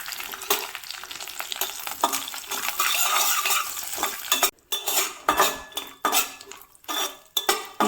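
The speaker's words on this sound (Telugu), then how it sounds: "ఇప్పుడు ఇందులో డ్రై ఫ్రూట్స్ని వేసి వేయించుకోవాలి." Dry fruits fry in ghee in a pan on the stove, with a sizzle under repeated clinks and scrapes of a metal spoon stirring against the pan, close and loud with no talking.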